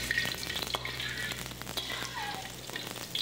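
Kailan stir-fried in hot oil in a home kitchen, with a steady close sizzle and frying crackle running continuously throughout, no voices.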